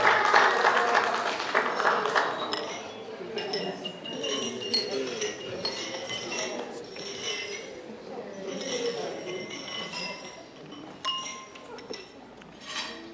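Wedding guests clinking glasses in a toast to the bride after the groom's speech, bright scattered clinks and chinks over a murmur of many voices and some light clapping in a reception room.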